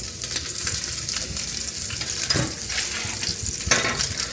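Bacon sizzles and spits steadily in a hot pan, a dense crackling hiss with occasional louder pops and stirring scrapes, close and continuous throughout.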